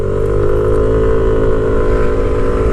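A new Yamaha NMAX Neo S scooter, nearly zero kilometres on it, pulls away from low throttle, its engine a close, loud steady hum that rises gradually in pitch throughout.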